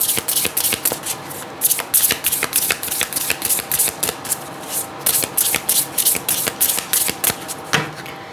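A deck of tarot cards being shuffled and cut, a rapid run of crisp riffling bursts repeating steadily and close up, with no talk.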